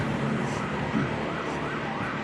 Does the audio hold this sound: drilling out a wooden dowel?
no